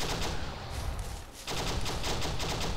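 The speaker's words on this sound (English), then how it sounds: "Had a couple of rounds land nearby" Gunfire and incoming rounds landing nearby in the military shooter Arma 3, a dense crackling burst of shots that briefly dips, then resumes loud and sharp with rapid repeated impacts.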